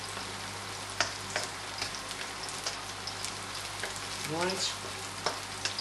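Onions sizzling in a hot pan at high heat, a soft steady crackle with occasional scrapes and knocks of a wooden spatula stirring, fairly quiet, with a brief spoken word.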